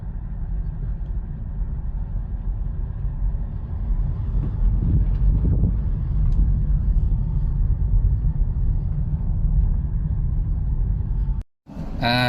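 A rental car rolls along a road in Riyadh with a steady low engine and road rumble, wind buffeting the microphone throughout, ending in a brief dropout near the end.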